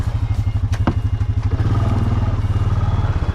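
A Honda Foreman ATV with diff lock churns through deep muddy ruts beside a pond, its engine chugging loud and close in a rapid steady pulse, with a few thumps and clatters from the mud.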